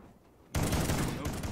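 The Bulldog shotgun fires in Call of Duty: Ghosts, a sudden loud, dense burst of game gunfire that starts abruptly and holds as a roaring blast to the end.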